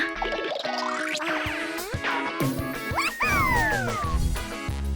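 Cartoon dog barking and yipping in quick bursts over bouncy background music in a children's animated story, with sliding whistle-like tones and a lively, close, loud sound throughout.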